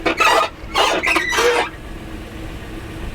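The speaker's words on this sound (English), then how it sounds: "That door squeak." A door of a 2004 Lexus RX 330 with unlubricated hinges squeaks loudly in three or four close, shrill, squealing bursts, then falls quiet.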